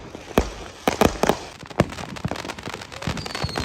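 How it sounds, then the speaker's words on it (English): Private neighborhood fireworks on a Fourth of July weekend, a scattered series of loud bangs and crackling bursts at varying distances, some sharp and near, others softer and overlapping, over a continuous background rumble. "Private fireworks."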